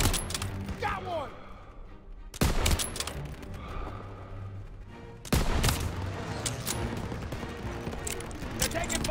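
Gunfire in the Call of Duty WWII video game: three heavy, close blasts spaced a few seconds apart, each trailing into echoing battle noise with scattered distant shots and mechanical clatter, and a voice speaks briefly in the background.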